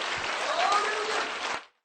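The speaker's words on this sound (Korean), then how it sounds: "우리 하나님께 박수를 드리십시오" A church congregation claps in praise to God, a dense, even burst of applause filling the room for over a second before cutting off abruptly into silence.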